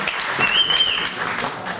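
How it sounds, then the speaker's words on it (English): Applause from an audience at a film screening and discussion in St Louis, a steady dense wash of clapping that holds for the whole stretch, with a thin whistle-like tone rising briefly above it partway through. "Let's give them a round of applause again"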